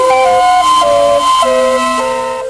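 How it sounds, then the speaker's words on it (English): Tangley Automatic Air Calliope, an air-blown calliophone related to the steam organ, plays a loud, bright run of sustained whistle notes stepping between pitches, steady and close, with no talking. "the Tangley Automatic Air Calliope, or simply the calliophone, which was a variation of the then common steam organ"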